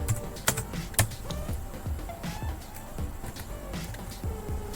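Keys tapped on a computer keyboard while entering a search, a quick irregular patter of close clicks with brief pauses, no talking.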